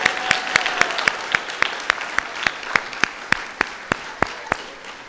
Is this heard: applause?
yes